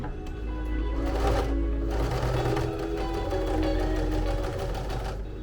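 A sewing machine stitches a quarter-inch seam around a plush toy. It makes a steady, fast mechanical whir with rhythmic needle clatter, close and alone, briefly pausing and then resuming.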